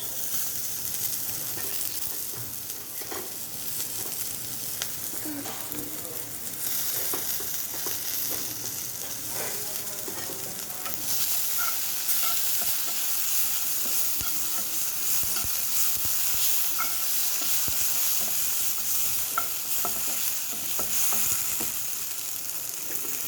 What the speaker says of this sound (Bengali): এবার আমি দেবো এর মধ্যে কিছুটা টমেটো কিউরি